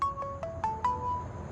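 A mobile phone ringtone sounding from inside a bag, a short repeating electronic melody of four quick tonal notes, moderately faint and slightly muffled, with no talk.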